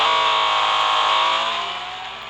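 A 1979 Porsche engine from the Real Racing 3 racing game hums steadily with a bright, buzzy harmonic tone, holding an even pitch and slowly fading over a couple of seconds, with no talking.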